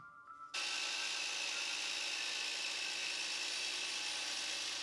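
A power saw cuts 45-degree miter joints in wood for a sjoelbak board game, a loud steady whine that starts abruptly and runs without a break, close to the microphone.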